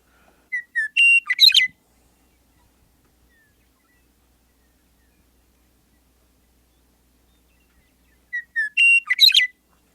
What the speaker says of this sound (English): now I'm going to play the western meadowlark